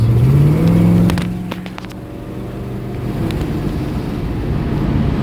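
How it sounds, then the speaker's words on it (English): A 1968 Ford Galaxie's engine revs hard while the car sits on jack stands with its wheels off. The pitch climbs, then drops sharply as the transmission kicks down, and a steady loud engine drone continues. "So when I throttle it, it actually downshifts like it should."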